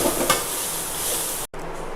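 Grated coconut is stirred into a carrot and beans poriyal in a pan, giving a continuous soft sizzling hiss with light scraping, cut by a brief silent gap near the end.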